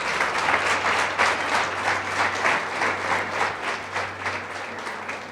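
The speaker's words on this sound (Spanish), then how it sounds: "Dale otro fuerte aplauso a Dios en esta mañana." A church congregation at a Spanish-language Sunday morning service gives sustained, dense applause, many hands clapping steadily throughout at close range with no talking.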